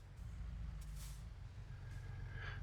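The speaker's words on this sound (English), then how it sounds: "I want to pass this truck because it's driving me crazy." A truck on the road is being passed from a moving vehicle, with a constant low engine and road rumble, a brief hiss, and a faint tonal whine rising near the end.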